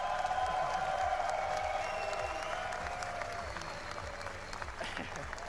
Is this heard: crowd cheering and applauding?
yes